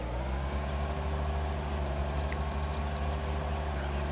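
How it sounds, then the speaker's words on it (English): A Gehl 4835 skid steer loader engine in Farming Simulator 2013 drones continuously with a slight rise in pitch, revving under load, fairly loud and unbroken. "you can sort of hear the engine rev when I'm operating it"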